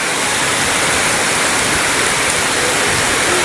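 Heavy rain pouring down during flooding in Tondo, a dense, unbroken roar of water, loud and steady throughout with no voices.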